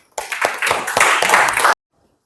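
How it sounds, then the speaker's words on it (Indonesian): Short burst of group clapping for a presenting team in a classroom teacher-training session, dense and fairly loud for about a second and a half before stopping abruptly into silence. "Tepuk tangan buat kelompok 2."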